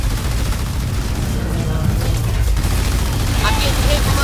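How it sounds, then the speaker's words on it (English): Artillery fire pounding units in the real-time strategy game Halo Wars 2 makes a dense, continuous rumble of booms and crackling gunfire, loud and sustained, with a voice talking over it. "I'm getting hit from artillery up here"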